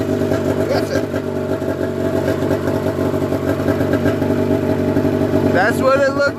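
Snowmobile engine, a Dragon sled, running and revving loudly and continuously close by, with a steady mechanical rumble and a brief rise near the end.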